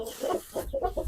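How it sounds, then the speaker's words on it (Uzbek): A grey rooster clucks close by in a quick run of short, throaty bursts with little pause between them, and a low rumble underneath. "Mana bu kul xo'roz"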